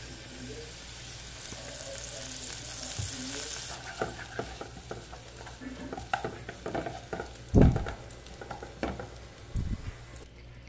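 Ground beef sizzling in a pan of oil with garlic cloves for lasagna bolognese, a steady close crackle broken by clatters of stirring and a few sharp knocks near the end.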